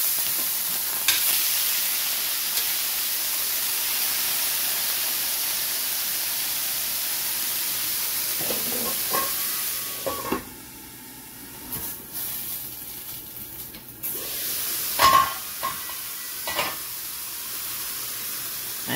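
Vegetables added to melted butter sizzle and hiss steadily in a pan, with a few stirring clinks and scrapes partway through.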